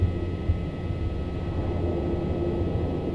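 Piaggio Avanti P180 turboprop in MSFS 2024 with propellers switched to beta range while taxiing, giving a loud, steady low drone and broad roar that holds constant throughout.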